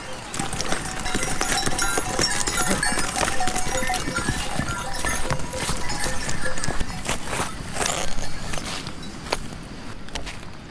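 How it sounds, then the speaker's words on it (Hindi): Hooves of horses and mules clip-clop along a hillside path as the animals carry loads of gravel and sand near Vyasi Chatti by the Nayar river, a busy continuous mix of steps and outdoor noise without clear speech. "ये घोड़े खच्चर अपना बजरी और रेत बालू लेके उधर छोड़ देते हैं"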